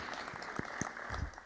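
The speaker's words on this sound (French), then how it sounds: "On peut l'applaudir" A short burst of applause rises in a community council meeting as members clap for a colleague named Salima. The clapping is soft and somewhat distant, with a few sharper individual claps standing out.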